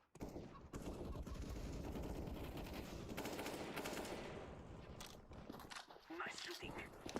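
Gunfire from the PUBG Mobile video game: rapid automatic bursts fill most of the stretch, followed by a few scattered shots, with faint voices underneath.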